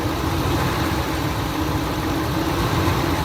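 Ford F-150 truck engine running steadily with a low, rough rumble, the throttle cracked slightly so it stumbles; a close, continuous engine drone with no talk.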